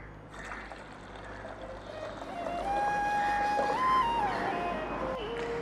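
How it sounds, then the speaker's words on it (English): Water poured into a pot of rice, moong dal and milk for a sweet rice dish, a steady gurgling stream running throughout and growing fuller toward the end, with a faint background hum. "and roughly about 3 cups of water"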